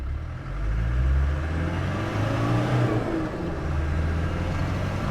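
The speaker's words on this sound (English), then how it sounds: "let's go through the gears one more time," A 1995 Land Rover Defender Camel Trophy 300tdi diesel pulls hard through its gears, its engine a loud, close, continuous drone that rises and holds steady without a break.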